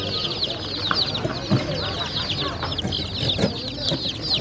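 Many small chicks peep constantly at an animal market in G'ijduvon, a dense chorus of high chirps up close, with low voices and market bustle underneath.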